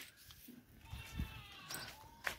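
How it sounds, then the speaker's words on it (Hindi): A dairy goat on a rural Indian farm gives a few faint, short bleats, the clearest near the end, over quiet background noise. "और ये है बकरी,"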